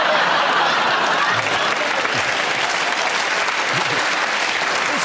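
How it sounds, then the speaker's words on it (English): A studio audience at a panel comedy game show bursts into a round of applause, dense steady clapping that fills the whole stretch at close range. "You made a joke and you got a round of applause."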